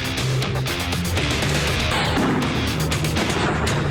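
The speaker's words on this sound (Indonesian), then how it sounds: "Rentetan tembakan pun diluncurkan Zionis Israel ke permukiman warga" Gunfire from Israeli forces on a residential area of southern Lebanon, a dense, continuous rumble of shots and booms filling the whole stretch, loud and unbroken, with no voices.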